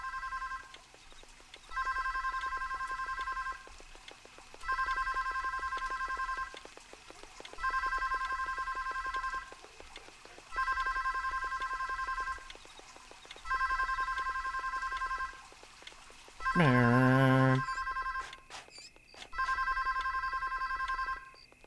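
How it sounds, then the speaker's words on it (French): Telephone ringing in The Sims life-simulation game: a repeating electronic ring in six evenly spaced bursts about two and a half seconds apart, loud and clear over quiet game ambience, with a brief sweeping chime near the end. "on me téléphone pendant que je suis sous la douche"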